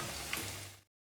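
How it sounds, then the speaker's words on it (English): Onions frying in a pan for beef pilau give a short, bright sizzle that cuts off abruptly into silence. "Our onions are frying"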